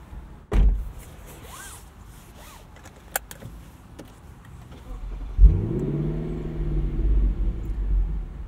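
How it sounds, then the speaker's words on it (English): A 2024 Lexus LC 500 convertible fires up on a cold start with a sharp exhaust burst, then settles into a deep, rumbling idle; a few clicks and rustles come before it. "Gotta love that exhaust note on cold start too."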